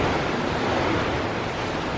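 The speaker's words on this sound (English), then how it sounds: "It is absolutely pouring outside." Heavy rain pouring outside a storage unit, a loud, continuous broadband hiss and roar with no breaks or distinct drops, and no voices.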